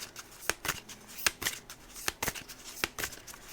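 Tarot cards shuffled in quick, uneven riffling bursts, about a dozen crisp flicks and slaps over a few seconds, close and fairly quiet, with no talking.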